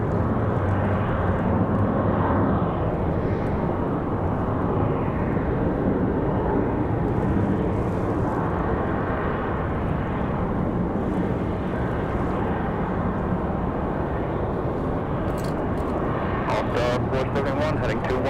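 A JetBlue airliner arriving from San Juan, Puerto Rico lands on runway 23 right at Raleigh-Durham International Airport, a loud, continuous broadband jet roar heard at a distance. Radio chatter and voices run faintly beneath it.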